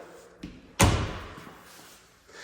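Knuckles rap on a solid wood linen closet cabinet with dovetail joinery in a hallway: one light knock, then one sharp loud knock that rings out briefly in the room.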